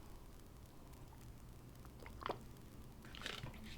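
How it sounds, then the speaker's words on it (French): Quiet, close-up mouth sounds: a couple of soft sips and a swallow in an otherwise still room. "je vais juste prendre une gorgée d'eau"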